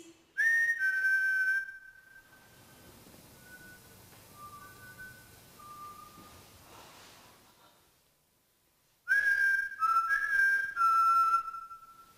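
Whistled replies to a call during a live Halloween ghost hunt: a loud sustained whistle, a few faint short notes, then another loud run of wavering whistles near the end after a quiet gap, with little talk.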